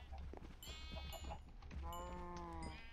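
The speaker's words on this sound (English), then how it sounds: "A couple more sheep while I'm at it too." Sheep in the modded Minecraft game bleat in a few quavering calls, one short and one longer, sounding over a low background hum without speech.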